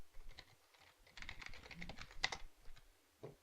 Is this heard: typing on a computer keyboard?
yes